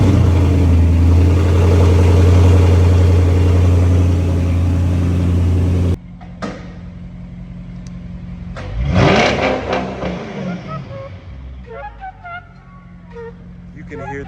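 A straight-piped Audi S7 with downpipes fires up from a cold start close by, catching with a sharp bark and a rising rev flare before settling to a rough idle, with the turbo spooling up and down audibly.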